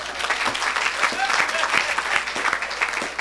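A church congregation at a Saturday service claps to acclaim the Lord, giving dense, steady applause from a crowd with voices mixed in.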